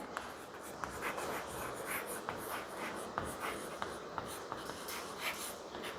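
Pen scratching across paper in steady continuous strokes while figures for a share-capital accounting exercise are written out, close and fairly quiet with soft taps between words and no talking.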